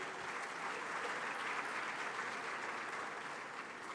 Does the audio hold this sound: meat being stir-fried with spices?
no